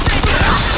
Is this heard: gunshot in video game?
yes